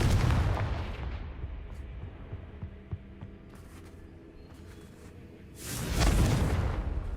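A Confringo fire spell blasts in the video game Hogwarts Legacy: a loud, booming burst opens, a quieter rumbling stretch follows, and a second heavy explosive roar swells near the end.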